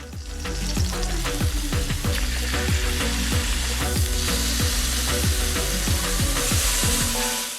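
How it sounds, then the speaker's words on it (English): Beef fillets searing in hot olive oil in a sauté pan give a loud, steady, close sizzle that runs unbroken from start to finish. "Add the fillets to the hot pan and sear for about 3 minutes on each side."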